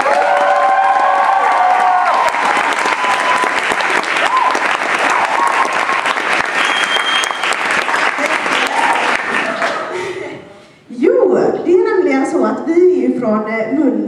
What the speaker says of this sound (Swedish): kan jag få en applåd, tack!